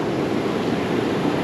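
Surf rolling onto Baler beach in Aurora Province, Philippines, forming a steady, broad roar of breaking waves that stays loud and constant throughout, with no voices.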